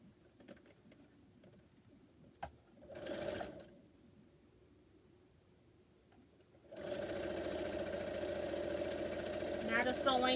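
A sewing machine stitching a quilt, first with a few short mechanical bursts and clicks, then a steady, loud, continuous whir of running stitches over the last few seconds.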